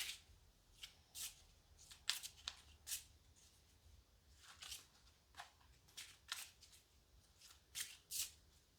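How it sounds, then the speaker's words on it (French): Darkwood tarot cards being shuffled by hand, a quick series of soft riffling bursts repeating irregularly, close and quiet. "Je remélange."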